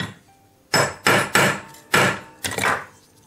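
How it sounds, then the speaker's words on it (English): A chasing hammer strikes a metal bezel setting to flatten it, five sharp, close, ringing taps spaced unevenly over a few seconds, with no talking. "use my chasing hammer to keep it dead flat."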